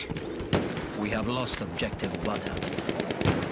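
Gunfire in the video game Battlefield 1, sharp shots cracking among battle noise, with someone talking excitedly over the action throughout.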